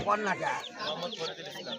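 Ducks quack in a busy, overlapping chorus at a duck market, with people talking nearby, close and fairly loud.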